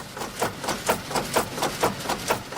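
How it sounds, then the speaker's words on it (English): Two oak hammers of old fulling stocks at a Dublin woollen mill pound woolen cloth in a steady rhythm, about two heavy, close thumps per second with no talk. "In this old machine called the stocks, the cloth is pummeled by 2 oaken hammers to close the weave"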